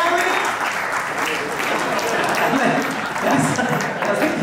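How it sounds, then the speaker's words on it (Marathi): An audience applauds, a dense, loud and continuous patter of clapping that fills the hall for several seconds with little variation. "त्या प्रतिक्रियेसाठी टाळ्या."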